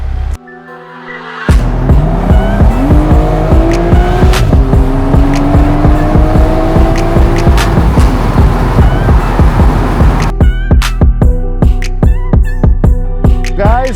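A pair of Ducati Multistrada motorcycles ride on a road toward Los Olivos, California; after a brief quieter start, loud, close engine roar rises and falls through revs and gear changes, continuous to the end with no talk.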